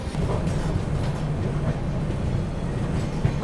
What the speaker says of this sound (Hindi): गोड्डा नई दिल्ली हमसफ़र एक्सप्रेस क्या निकाला है भाई गाज़ियाबाद से